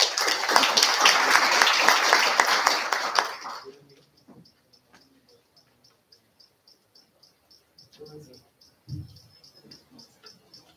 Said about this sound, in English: please join your hands in applauding this function today.